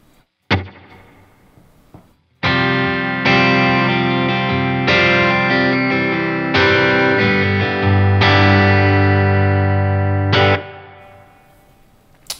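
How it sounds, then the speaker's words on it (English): Electric guitar chords ring out one after another through a Line 6 Helix '63 spring reverb, each swelling with a splashy, springy reverb tail, fairly loud and alone. "I like to turn that off and turn on a spring reverb, and that's the 63 spring."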